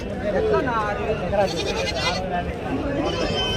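Rams and goats bleat repeatedly amid a noisy livestock market crowd, with people talking loudly over the animal calls throughout.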